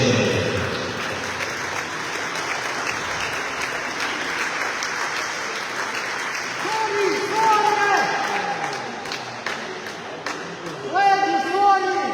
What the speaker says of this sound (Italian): Un applauso per le campionesse.